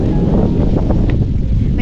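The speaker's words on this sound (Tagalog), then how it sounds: "lakas ng hangin!" Strong wind buffets the microphone outdoors, a loud continuous low rumble with gusty bursts throughout.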